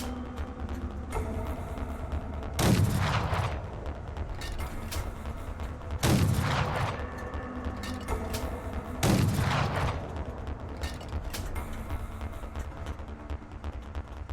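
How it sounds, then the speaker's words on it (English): Three heavy turret cannon shots in Fallout: New Vegas fire a few seconds apart, each a loud booming blast with a trailing rumble, over a low steady mechanical background. "Take a few practice shots at those vehicles across the river."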